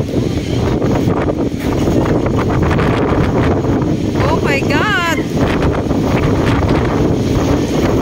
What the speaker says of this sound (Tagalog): Ay, Diyos ko, takas ng hangin!